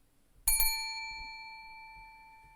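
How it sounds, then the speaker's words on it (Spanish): A small reception desk bell struck twice in quick succession, bright and close, its metallic ring sustaining and slowly fading in a quiet room. "Polly acabó tocando la campanilla."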